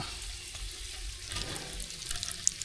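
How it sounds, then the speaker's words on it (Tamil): Mustard seeds, cumin and curry leaves tempering in hot oil, a soft close sizzle with light stirring scrapes and a small pop near the end, no voices. "கடுகு நல்லா பிடிச்சிட்டு ஜீரகம் சேர்த்துக்கலாம் அது கூட ஜீரகம் நல்லா பிடிச்சிட்டு கருவேப்பிலை சேர்த்துக்கலாம்"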